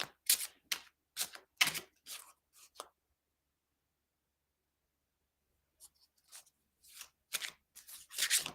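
Tarot cards are shuffled by hand in quick bursts of crisp clicking and riffling, close and fairly quiet. The shuffling pauses in silence for about three seconds, then resumes.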